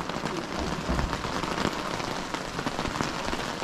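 Rain falls on a surface outdoors during a spring camping trip, a steady, close patter and hiss with scattered louder drops and no talk.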